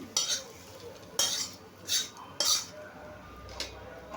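Bitter gourd fritters coated in gram flour and egg fry in a pan on low gas, with five sharp utensil scrapes and clinks at irregular intervals over a faint sizzle.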